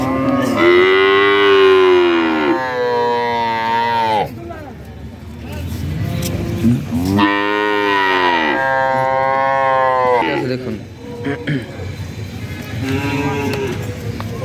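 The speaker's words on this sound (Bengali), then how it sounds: "একটা বাছুর একটা খাওয়ার জন্য কি করতেছে পেটে প্রচুর পরিমাণ খিদা" A hungry calf at a cattle market gives several loud, drawn-out moos close by. Between the calls there is a faint hum of crowd and traffic.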